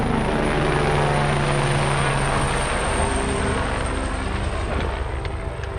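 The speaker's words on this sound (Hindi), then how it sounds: "ये देखिए हेलीकॉप्टर जो जा रहा है एकदम" A helicopter flies close by on the Kedarnath pilgrimage route in the snowy Himalayas, its loud, steady rotor thrum and engine whine filling the air throughout without fading.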